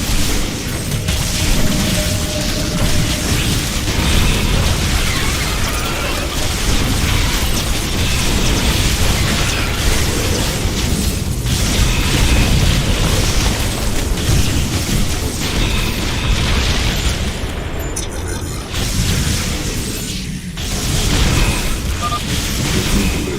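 Explosions and incoming fire rumble through a StarCraft 2 campaign battle on a narrow canyon ridge, a dense, loud, continuous barrage of booms and crashes with mechanical clatter.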